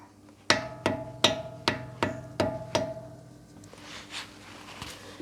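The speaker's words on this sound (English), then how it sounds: "get your screwdriver in there and apply pressure in the undoing motion with a hammer" Six sharp metallic taps of a hammer striking a screwdriver to undo a screw ring out at a steady pace, each with a bright ringing tail, followed by quieter faint knocks and rustling.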